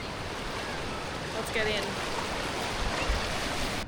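Warm ocean surf at a beach resort in Bentota, Sri Lanka, rolls and washes steadily as a broad, constant wash of water, with a person speaking briefly over it.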